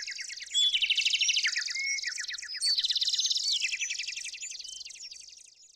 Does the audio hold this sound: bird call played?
yes